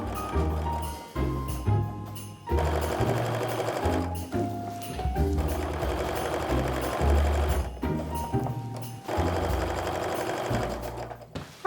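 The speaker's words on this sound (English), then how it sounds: "now we're going to put these through the sewing machine" A sewing machine runs in steady rhythmic bursts with short pauses while stitching pinned quilt pieces with nested seams for a small mug rug.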